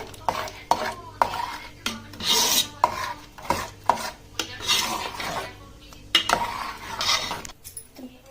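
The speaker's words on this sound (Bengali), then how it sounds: "ভালো করে নেড়ে নিচ্ছি" Gobindobhog rice payesh with jaggery being stirred in a pot, with irregular scraping, rasping strokes and metal clinks of a spoon against the vessel, close and busy.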